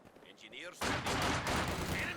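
Machine gun fire in a competitive WWII strategy game match with German mechanized and Jaeger infantry, a sudden dense burst of rapid shots cutting in after faint game sounds and continuing loudly to the end.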